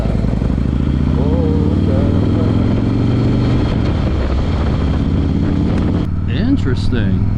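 Harley CVO 110ci with S&S 551 cams running: a loud, steady, deep engine rumble held throughout, with someone speaking over it.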